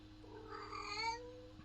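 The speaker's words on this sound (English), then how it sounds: "the cat's making weird noises again" A cat makes weird noises, a single faint drawn-out meow-like wail over a low steady background hum.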